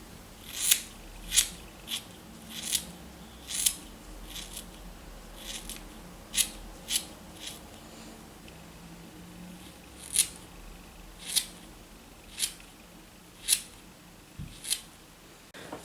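Scissors snip through hair during a home haircut: crisp, close metallic clicks in an uneven series, around a dozen cuts with short pauses between, on a quiet background without talk.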